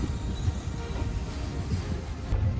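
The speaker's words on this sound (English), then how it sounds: "I think it's a diesel rail car." A low, steady rumble of a diesel rail car rolling by, broadband and continuous with a dense low-end drone throughout.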